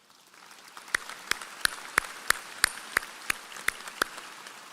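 Slow, evenly spaced single hand claps, about ten sharp strikes, ring out in a large hall at a San Jacinto College commencement ceremony over quiet room noise, with no talking.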